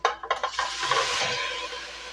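Metal utensil scraping and clinking in a pan while pork is stirred with onion and garlic for pork estofado, a few sharp knocks at first, then a steady sizzling scrape.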